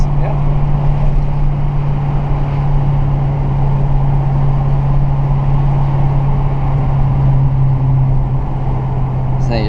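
Dodge Challenger Hellcat with a manual gearbox accelerating on a highway, a steady deep engine drone with a strong low hum and road roar filling the cabin, loud and constant throughout.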